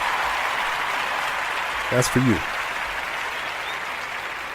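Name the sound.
round of applause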